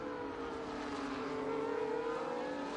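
F1 race cars in a racing video game at Zandvoort, a steady high engine whine building as the cars accelerate up the gears toward the chicane, loud and continuous with no talk.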